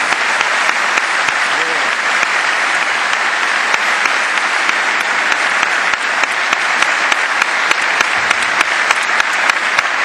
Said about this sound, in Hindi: जरा जोरदार तालियों से हनुमान जी का स्वागत।